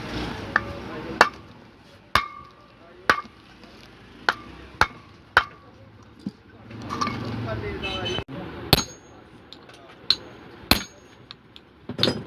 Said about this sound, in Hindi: अब ये ऊपर वाला बैरिंग हम ठोक लेंगे इसको।